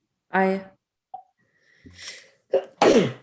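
A single sneeze bursts out in a quiet council meeting, followed by a short sniff, with brief spoken voting responses before and after.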